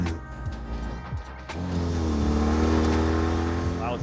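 A Land Rover Defender with a modern NAS-style engine build climbs a hill, its steady low engine drone rising in pitch and swelling in loudness partway through as it pulls harder, heard close from inside the vehicle.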